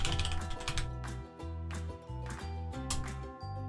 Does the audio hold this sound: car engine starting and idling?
no